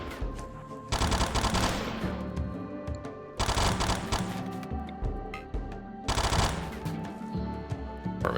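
Repeated bursts of automatic gunfire in a top-down colony-building game, three loud rattling volleys separated by short pauses, with scattered single shots between them.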